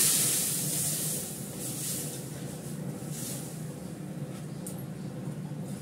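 Water poured into a hot pan for a mango sour curry sets off a loud, close steam hiss that eases slightly and then holds as a steady rushing sizzle.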